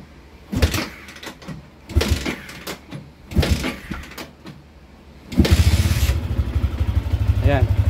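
Yamaha Sniper 150 motorcycle with no battery, kick-started: three sharp thumping kicks at intervals, then the engine catches and settles into a loud, close, steady idle.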